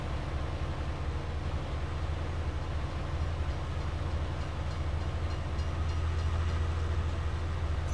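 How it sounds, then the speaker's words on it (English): A train rolls past in Farming Simulator 19, a steady low rumble with a rattling mid-range wash that holds at constant loudness and swells slightly near the end, with no talk over it. "Oh yeah, the train."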